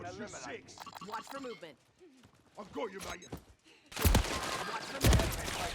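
Gunfire in the shooter game Warzone 2 during a Modern Warfare III beta match, bursts of loud shots after about four seconds following excited talk, with a second burst near five seconds.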